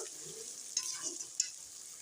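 Ginger-garlic paste frying in oil for a meat curry, a steady close hiss broken by two brief stirring scrapes, with no talk.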